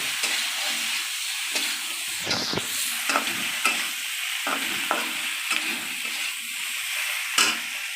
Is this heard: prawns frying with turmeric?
yes